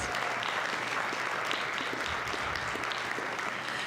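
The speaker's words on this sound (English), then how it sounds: "One more big round of applause for these hardworking 8th graders." Dense applause from a large audience for an 8th grade school band, steady and sustained throughout, with a few sharper claps standing out.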